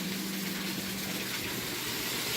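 Tomatoes from a farmer's market being rinsed under a running tap, a steady full gush of water throughout, close and alone with no talk.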